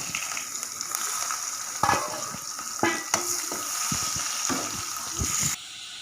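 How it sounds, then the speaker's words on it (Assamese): Onions frying in a pan while a kawoi fish and elephant foot yam curry is made, a steady close sizzle with several sharp stirring scrapes and clatters. "এতিয়া পিঁয়াজখিনি ভাজি ল'ম।"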